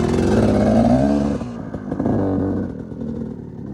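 A KTM 350 trial motorcycle engine runs nearby, revving and clattering steadily, then easing off partway through and carrying on at a lower, rougher idle, with no one talking.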